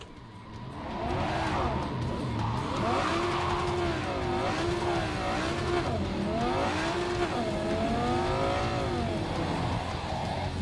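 A car in Cyberpunk 2077 drives hard with its engine revving up and down in wavering sweeps, tires squealing at times, loud and steady throughout.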